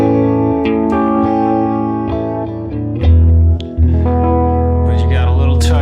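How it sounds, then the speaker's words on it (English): Electric guitar played through a light chorus, a single eighth-note delay and barely-there reverb, sustained chords and single notes ringing with soft repeats, steady and close, with no talking over it. "And then I put an eighth delay, single delay, not the double. And then reverb almost off"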